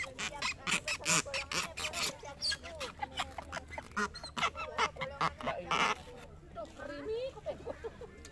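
Ducks quack and honk repeatedly beside a lake at a country park campsite, a near, busy chatter of fowl calls, with people talking in the background and a softer stretch toward the end.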